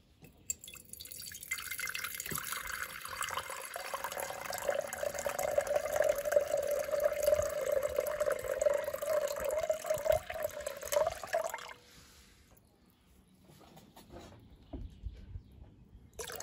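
Water is poured steadily from a container into a vessel on a scale for mixing a lactic acid treatment, a close, continuous filling trickle that rises in pitch before stopping abruptly, followed by faint drips.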